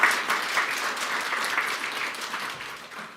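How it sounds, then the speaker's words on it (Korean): Congregational applause in a Korean church during a Sunday worship service, a steady, dense wash of many hands clapping that holds evenly for a few seconds, with no talking over it. "우리 목사님께 다시 한번 박수로 감사를 전하도록 하겠습니다"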